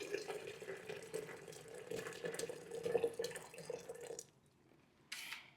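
Hot water pours steadily from a vessel in a home kitchen for about four seconds, a continuous close splashing stream that stops abruptly, followed by a brief clatter.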